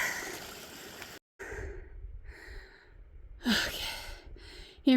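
Heavy, labored breathing from a hiker on a steep, rough mountain trail climb, loud and close with long rasping exhales and gasps separated by short pauses, no talking.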